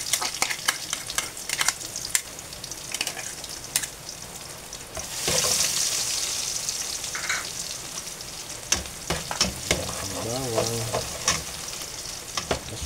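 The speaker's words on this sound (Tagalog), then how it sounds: "mainit na yan. Lagyan na natin yung ating bawang." Garlic drops into hot oil for dinuguan, producing a loud, steady sizzle and spitting crackle with repeated clicks and scrapes of a spatula stirring in the pan, and no voices.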